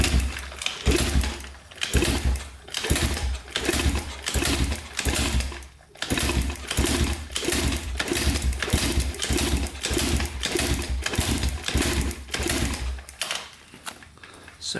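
A neglected pit bike that sat in a barn for years, its small engine revving hard with the throttle held open, a loud steady buzzing drone pulsing rapidly for most of the stretch before cutting out near the end.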